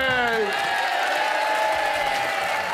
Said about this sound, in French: On applaudit Séverine de la gendarmerie française